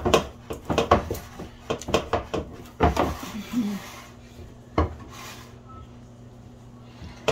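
Hot Ghanaian palm nut soup is stirred in a glass bowl held with a napkin, with quick clinking and knocking strokes that come in bursts and then thin out.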